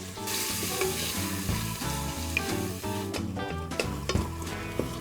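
Chicken pieces fry in a pot with onion and garlic, giving a loud, continuous close sizzle with occasional sharper crackles and spits, no talking heard.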